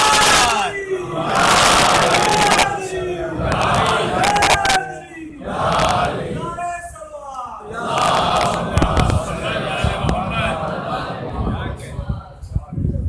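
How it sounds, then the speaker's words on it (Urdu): A large gathering at a religious sermon erupts in loud, rhythmic collective chanting of slogans, several surging shouted waves close and full, with brief lulls between them. "نعرے سلامات"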